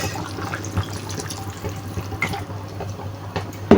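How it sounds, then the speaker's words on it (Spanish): Water runs and splashes steadily into a simmering pot of Italian minestrone soup, a continuous pouring trickle with small drips, close and alone. "Yo le voy a agregar un chiquito más de agua"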